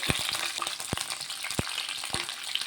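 Capsicum frying in a little oil for a masala capsicum curry, a bright, close sizzle with sharp clacks of a spoon against the pan every half second or so, and nobody speaking.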